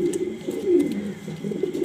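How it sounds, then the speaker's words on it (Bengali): A pair of grizzle racing pigeons coo close by in low, throaty rolling calls that repeat over a couple of seconds, with no talking. "দেখতে পারতেছেন একজোড়া রেসার কবুতর"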